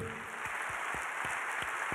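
An audience applauds prize winners at an awards presentation, a steady, even wash of many hands clapping that runs without a break, with a few sharper claps standing out.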